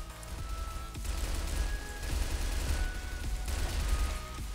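Sustained gunfire in the online shooter CrossFire with an M14 EBR rifle, dense rapid shots and impacts mixed with game background noise, loud and continuous.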